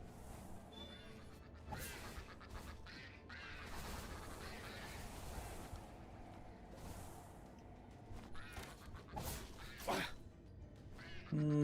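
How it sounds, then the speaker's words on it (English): Palumba creatures from the Palworld video game make harsh quacking calls that resemble an angry duck. The calls repeat several times over game noise and background sounds, with people talking now and then. "it sounds like an angry duck"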